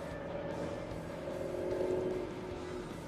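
A diesel car engine with water in its fuel idles with a faint, steady knocking rumble, low and continuous.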